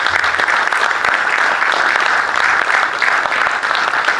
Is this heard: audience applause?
yes